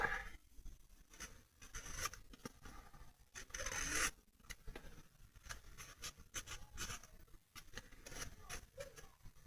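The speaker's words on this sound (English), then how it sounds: "I'm going to just whiz around the edge of that with the crumb cake marker." A crumb cake coloured marker rubs around the edge of a paper card, giving quiet, dry, scratchy strokes in quick irregular bursts, close by and with no voices.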